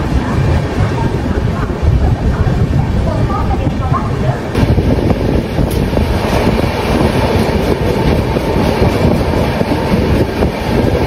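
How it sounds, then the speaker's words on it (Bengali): A train pulls out of Kharagpur station, with a steady loud rumble and rattling of the carriages running through the whole stretch and wind buffeting the microphone. "এখন খড়গপুর স্টেশন ছেড়ে নেক্সট স্টপেজ হচ্ছে সাঁতরাগাছি জংশন।"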